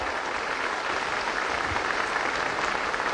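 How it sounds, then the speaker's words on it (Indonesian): An audience at a 25th-anniversary evening celebration for LP3I claps together, a continuous broad roar of many hands that holds level for the whole stretch, with no voices over it. "Boleh tepuk tangan untuk Anda semua."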